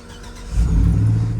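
A Chevrolet Regency Sierra truck pulls away, with a low engine rumble that swells and holds steady as it drives off, close and fairly loud, with no voices.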